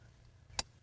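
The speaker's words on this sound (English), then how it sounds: "On this particular model, you have to pop out an engine cover." A single sharp plastic snap as an ATV engine cover is popped out, one brief click standing out clearly against a quiet low hum.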